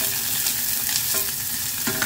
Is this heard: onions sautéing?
yes